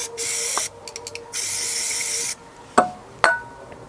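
Aerosol brake cleaner sprayed on a sludged carburettor, loud hissing bursts that sputter and cut out as the can runs empty, followed by two sharp knocks.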